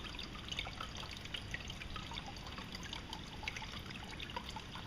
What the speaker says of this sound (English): get the water flow going again.